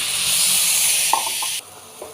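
Water poured into a hot pan with spices for a cauliflower egg dish sends up a loud, steady broadband sizzle and hiss that drops off sharply partway through, with a few small clinks near the end.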